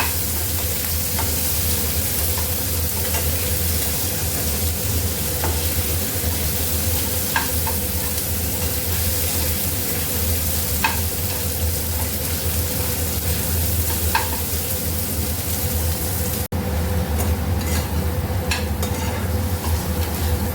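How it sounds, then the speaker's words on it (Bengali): Shredded chicken fries for chicken Maggi, a steady close sizzle running throughout with occasional scrape-like stirring taps and a brief sharper clatter near the end, no voices. "এবার এটাকে ভালো করে ফ্রাই করে চিকেন ম্যাগি বানাবো"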